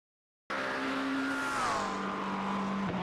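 After a brief silence, a high-pitched GT3 race car engine at Sebring in a racing game howls steadily, its pitch sliding down and then holding, loud and close.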